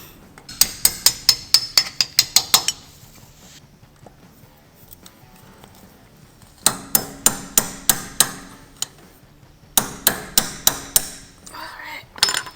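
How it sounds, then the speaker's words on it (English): Sharp metallic taps and clinks from work on a wheel hub castle nut and cotter pin, a fast run of evenly spaced strikes, a pause, then two more rhythmic bursts, loud and close. "we're going to remove the cotter pin and then tighten the castle nut up a little bit"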